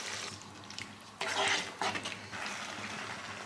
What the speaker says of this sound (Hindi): अभी ये बेसन में थोड़ा सा पानी डाल के इधर हमें इसको डालना है